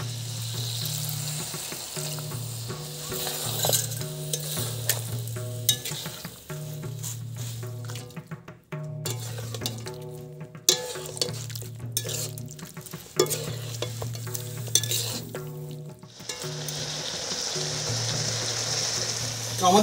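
Chicken curry simmering in a wok after water is poured in, a steady low bubbling and sizzle with intermittent stirring scrapes over background music throughout.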